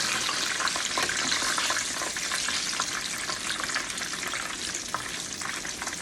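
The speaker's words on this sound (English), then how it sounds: "I'm just gonna fry all of them up" Eggplant slices frying in hot oil, a steady dense sizzle with bright crackling pops running evenly throughout, close and fairly loud, with no voices.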